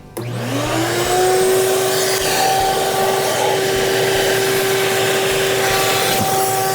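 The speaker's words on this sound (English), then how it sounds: "I'm just going to use this vacuum attachment" A vacuum attachment starts up with a rising whine and settles into a loud, steady suction drone, drawing air through a BMW B58 engine during valve cleaning, running close and continuous without talk.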